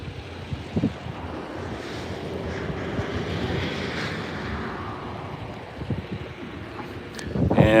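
Steady wind blowing at a Northern California wildfire, a continuous broad rushing roar with occasional gusts and buffeting thumps, building louder near the end.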